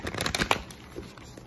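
A quick flutter of tarot cards being shuffled, a brief papery riffle that fades into quiet.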